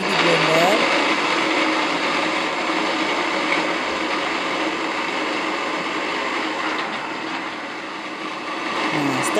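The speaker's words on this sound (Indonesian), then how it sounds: "Ini di blender." A blender whirs continuously, loud and close, as it blends a cooled herbal decoction of Nias traditional medicine, a steady motor roar with a slight dip near the end, with a voice faintly audible under it.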